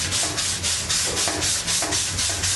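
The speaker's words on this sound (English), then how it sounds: "Try to sand on a diagonal." Hand-sanding body filler on a 1971 Camaro SS, with rhythmic rasping strokes about twice per second, close and loud, steady throughout.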